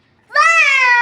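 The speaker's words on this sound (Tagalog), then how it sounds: "Meow." Up close, a single loud, drawn-out meow starts after a short quiet pause and holds a clear, steady tone to the end.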